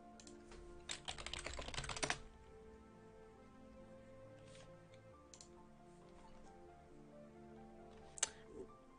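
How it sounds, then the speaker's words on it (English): Keystrokes on a computer keyboard during a programming livestream, a dense burst of rapid clicking at the start, then sparse, scattered taps with quieter gaps and another short flurry near the end, all fairly close and faint. "one thing you'll notice when I'm typing"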